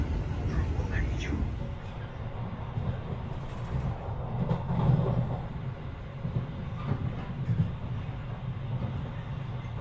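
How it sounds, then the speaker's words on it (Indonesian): The Jaka Tingkir train rolls straight through Bekasi station without stopping, with a heavy rumble and rattling carriages, and a voice speaks over the passing noise. "Kereta api Jakatingkir melintas langsung di stasiun Bekasi"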